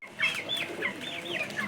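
Hens and chicks cluck and peep close by, in a busy overlapping chatter of short calls with no pause.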